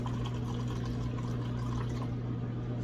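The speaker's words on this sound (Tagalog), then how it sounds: "pindot muna tayo ng tubig" Water pours steadily from a dispenser, a continuous splashing flow over a low mechanical hum, close by and unbroken.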